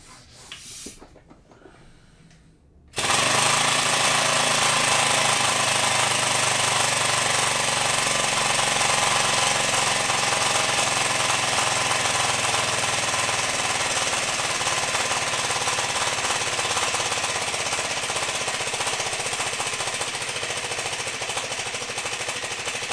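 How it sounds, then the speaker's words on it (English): A 3D printed engine runs on compressed air after being pumped up to a higher pressure. It starts abruptly after a few quiet seconds, then holds a loud, rapid, steady mechanical chatter like a small jackhammer until the end. "So I've run the engine in about 4 or 5 times"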